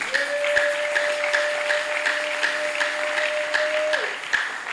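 A church congregation applauding, an even patter of many hands over a sustained tone, moderately close, fading slightly at the end.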